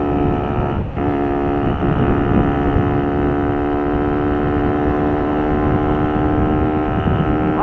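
A four-stroke moped engine revs hard and holds a loud, steady buzzing drone, with a brief dip near the start.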